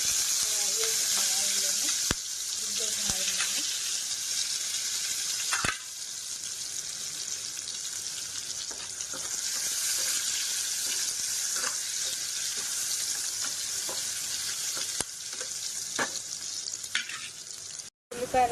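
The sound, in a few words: frying onions, green chillies and curry leaves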